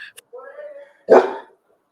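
A pet dog indoors gives a whining, drawn-out vocalisation followed by one loud, close bark, then falls silent.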